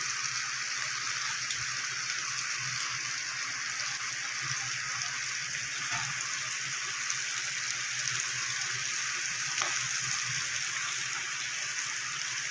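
Bengali five-spice tempering, panch phoron, fries in hot oil alongside potatoes for a pumpkin curry, producing a steady, even crackling sizzle with a few faint clicks.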